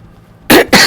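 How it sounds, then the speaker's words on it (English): A single sharp throat clearing in two quick loud bursts, close to the microphone, following a brief quiet pause, with no talking during it. "gotta clear my throat"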